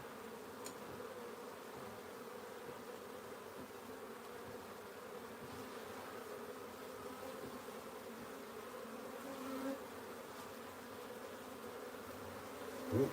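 A dense swarm of wild bees buzzing continuously during a hive comb transfer, a steady droning hum with individual bees passing close now and then.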